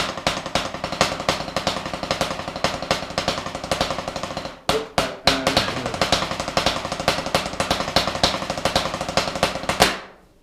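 Fast drum kit fill built from continuous six-stroke roll triplets with swing accents, loud and dense with sharp repeated hits; a brief break midway, then the playing resumes and stops abruptly near the end.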